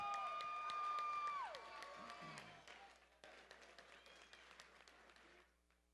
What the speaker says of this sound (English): a round of applause for 2 great fighters and one hell of a fight